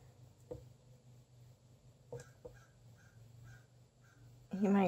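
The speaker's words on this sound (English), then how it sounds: "But y'all can hear the crow outside." A crow caws outdoors, faint and at a distance, several short caws spread through the clip. A soft low indoor hum sits underneath, and a brief burst of noise comes at the end.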